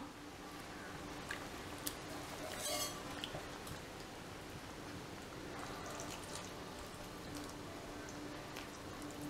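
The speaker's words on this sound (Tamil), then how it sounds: "காய்கறி எல்லாம் கொதிக்க ஆரம்பிச்சிருச்சு" Quiet, steady bubbling and simmering of vegetables boiling in a pot, with faint crackles and an occasional light clink of utensils.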